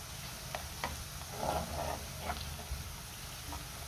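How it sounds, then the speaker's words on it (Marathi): Chopped onion sautéing in a pan for a spicy matki potato curry, a soft steady sizzle with a few light taps and scrapes of a spoon, quiet and close. "2 मिनिटं मी कांदा चांगला परतून घेतलाय"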